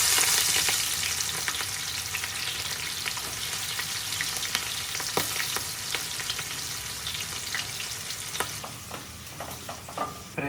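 Onions and green chilies frying in oil for a fish curry, a steady bright sizzle with scattered crackles and occasional stirring scrapes, close and continuous, fading slightly toward the end.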